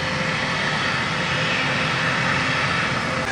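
A loud, continuous airplane engine roar at Santa Barbara airport, broadband and steady throughout, heard close with no speech.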